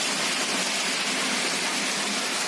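Heavy rain pours down in a storm over a village, a dense continuous roar of water close by with no voices.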